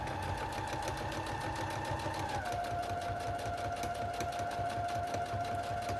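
Sewing machine running steadily while back-stitching a cork fabric zipper pouch, a continuous close motor whir with rapid needle rhythm that shifts pitch partway through as the stitch direction changes.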